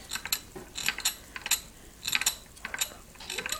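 A homemade steam engine's valve mechanism clicks and ratchets in irregular bursts of sharp metallic ticks. The clicks are close and fairly quiet, with brief gaps between clusters.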